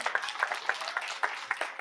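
Brief, moderate applause from an audience at a scholarship awards ceremony for women veterans, with a sparse scatter of individual claps in an irregular rhythm, fairly quiet and heard alone.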